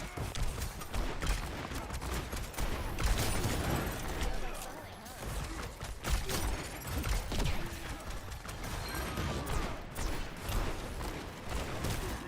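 Gunfire crackles almost nonstop through a fast competitive Overwatch match with Cassidy, rapid sharp shots layered over game effects and movement, loud and dense.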